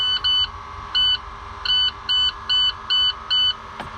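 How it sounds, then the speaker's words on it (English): Alarm on the rear door of a 2011 International 3200 RV sounding once the engine is cranked: seven sharp, loud electronic double-tone beeps in a steady stop-start rhythm over low engine rumble. "there's an alarm on the back door, and when you start it, it'll just beep like crazy"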